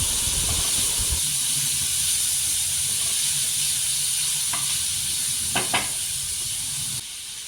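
Prawn pieces drop into a hot pan of cooking filling and sizzle with a steady, loud hiss that runs throughout, with a few faint clicks near the end.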